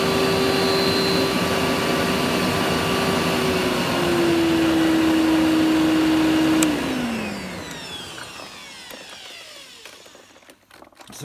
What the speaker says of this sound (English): it's making a bit of a whistling noise when it's in its upright position